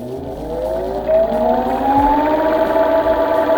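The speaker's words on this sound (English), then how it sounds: "I'll show you how fast the hub motors spin" Hub motors of a Walnut Spectra X electric skateboard spin up on low mode, producing a loud, continuous electric whine that climbs steadily in pitch like a siren.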